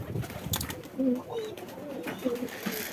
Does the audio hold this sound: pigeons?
yes